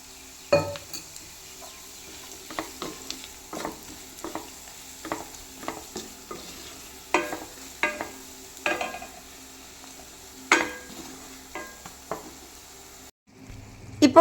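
Beef frying in masala in a pan, stirred with repeated scraping strokes of a spoon against the metal over a low, steady sizzle, with no one speaking.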